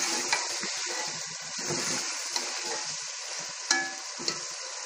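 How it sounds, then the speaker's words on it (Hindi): Spices and chopped ginger sizzle and fry in a karahi for chicken white karahi while being stirred, a steady hiss with scattered clinks and scrapes from the utensil, close and continuous with no talking. "इन सारे मसालों को मिक्स कर लेंगे।"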